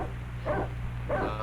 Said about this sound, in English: That is in fact a dog